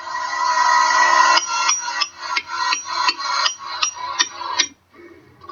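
A drawn-out scraping rasp gives way to a run of quick metallic hammer strikes on rebar in a masonry block wall, about eight in a row, close and sharp, then a short quiet.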